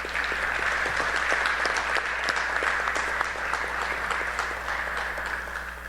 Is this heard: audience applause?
yes